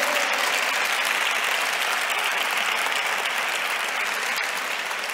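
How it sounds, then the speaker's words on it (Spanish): A large audience at an institutional welcome session applauds in a dense, continuous wash of clapping that stays loud and even from start to finish, with no voices on top. "Aquí creo que se merecen efectivamente un gran aplauso."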